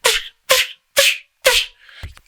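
A beatboxer demonstrates the rhino snare, a mouth-made imitation of a snare drum: four sharp, loud, breathy bursts in an even rhythm, followed by a softer, trailing fifth attempt.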